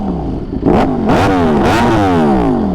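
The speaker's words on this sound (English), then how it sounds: "We get to listen to the glorious 1103cc V4." An 1103cc V4 motorcycle engine revving while stationary, loud and close, climbing and falling through several sharp throttle blips over a rumbling idle, with no talking.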